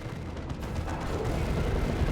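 Inferno bolts explode in a Dawn of War 2: Retribution 3v3 match, a dense, rumbling barrage of booms that builds steadily and stays loud without any voice over it.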